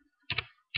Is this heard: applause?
no